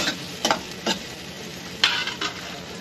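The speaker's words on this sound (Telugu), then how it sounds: "ఇట్లా ఉల్లిపాయలు కూడా వేసి ఫ్రై చేసుకుంటున్నాను." Sliced onions frying in a pan, a low steady sizzle broken by a few brief stirring scrapes, close and fairly quiet.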